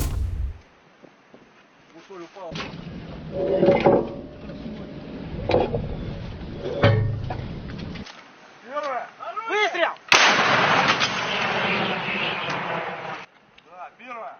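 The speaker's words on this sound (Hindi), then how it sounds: "रूस के सैनिकों ने ज़मीनी स्तर पर यूक्रेन पर तोपें दागी हैं" Heavy artillery cannon blasts boom out, one especially loud burst partway through, amid shouting voices and rumbling background noise.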